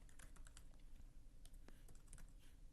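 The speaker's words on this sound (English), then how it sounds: "we type in the name of our compiler, javac" Typing on a computer keyboard to enter a compiler command, with a quick run of faint, close key clicks in an uneven rhythm over a low background hum.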